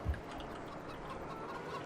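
Live farm chickens cluck softly and continuously nearby over a steady low background hum, with no talking.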